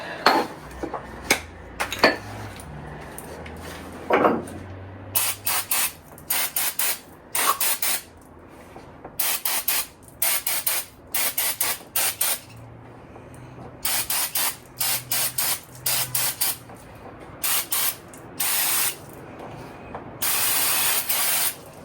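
Aerosol spray blasting engine parts during clutch prep on a 1961 Mercury Comet LS swap, heard as repeated sharp hissing bursts of varying length separated by short pauses, close and loud, with light metallic clinks between.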